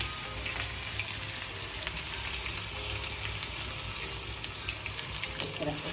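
Pieces of taro (arbi) leaf frying in hot oil in a small batch for a Bihari-style mustard curry, giving a steady, even sizzle and crackle that runs throughout, with no talking.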